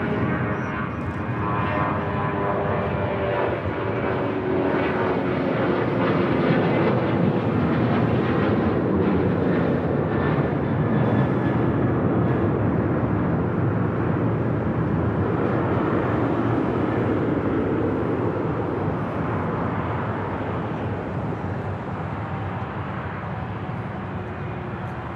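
A United Airlines Boeing 777-200 jet bound for Newark takes off at LAX, its engines a loud, sustained broadband roar that holds steady for the whole stretch and eases only slightly near the end.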